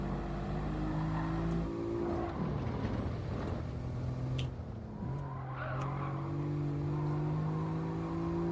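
A car driven in Gran Turismo 7 hums with a steady engine tone that climbs and shifts through gears, with a brief tire skid midway, continuous and fairly close with no talking.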